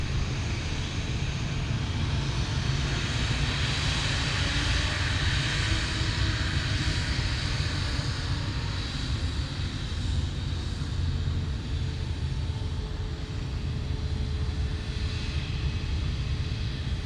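Singapore Airlines jet taking off from runway 15 at Cairns Airport, a steady, moderately distant engine roar that holds throughout without any talking.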